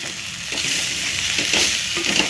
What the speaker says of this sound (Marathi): हे सगळं टाकून पुन्हा मिक्स करून घ्यायचं आहे